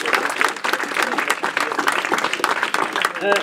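Audience applause at a New Year's greetings ceremony, a dense steady clapping from a crowd sustained throughout, fairly loud with a voice faintly mixed in.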